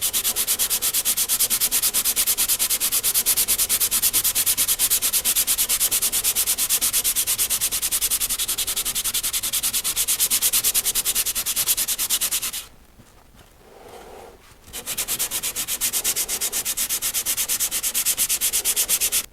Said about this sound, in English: I'm going to go in with a finer sandpaper and finish this up a little bit